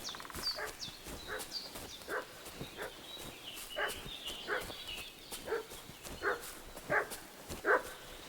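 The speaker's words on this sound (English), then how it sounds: "What's that dog making such a fuss about?" A dog barks repeatedly in the medieval village world of Kingdom Come Deliverance II, sharp mid-distance woofs in an irregular volley that grows more frequent and louder toward the end, with no speech.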